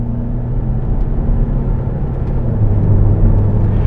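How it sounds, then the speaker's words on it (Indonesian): A 2020 Mercedes-Benz V-Class van accelerating under throttle, its engine a steady low rumble and drone heard from inside the cabin, rising slightly in pitch and loudness toward the end. "Nih kita gas lagi"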